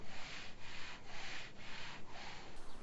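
Hand rubbing back and forth over paint specks stuck on window glass at a construction cleanup site, a soft rhythmic scraping in four or five strokes, close and quiet, with no talk.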